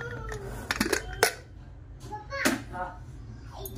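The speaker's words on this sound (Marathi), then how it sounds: "तर कुकर खोलूया आपण" A pressure cooker holding cooked green peas is opened, with sharp metallic clinks and clatter of the lid amid brief voices nearby.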